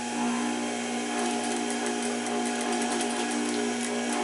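Sewing machine topstitching the fly of a pair of trousers, a steady close mechanical hum and rapid needle chatter running continuously throughout with no voices.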